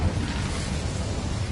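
A Bombarda blast spell from the Hogwarts Legacy video game goes off as a deep, rumbling explosion, heavy low-end boom sustained across a short stretch with a dense crackling roar above it.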